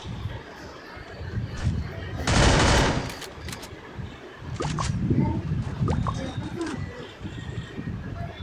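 Bursts of automatic gunfire from a multiplayer shooter game clatter in the mix alongside a broad blast of noise, while excited players talk and shout over the action throughout.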